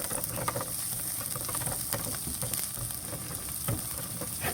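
Garlic sautéing in a hot pan while cooking a simple home dinner, a steady close sizzle and crackle with faint stirring scrapes throughout, no voices.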